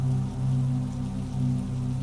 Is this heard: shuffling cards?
no